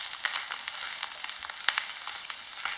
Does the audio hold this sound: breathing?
no